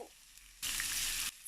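Diced onion and minced chili hitting hot oil in a pan, a quiet background then a sudden loud burst of sizzling for about a second that cuts off abruptly.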